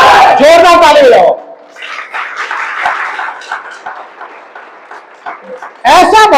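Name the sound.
audience applauding loudly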